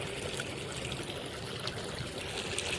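Irrigation water trickling and gurgling steadily into an onion field, a continuous close-up stream of running water with no voices.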